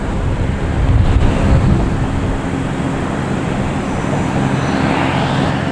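A Delta Embraer E170 arriving at Boston Logan Airport makes a broad, roaring jet rush that swells early and then holds steady, mixed with wind buffeting across the microphone outdoors.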